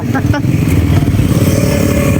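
Motorcycle riding over a rough, bumpy road in Dingalan, its engine a steady loud rumble with rattling clatter throughout, brief voice sounds near the start.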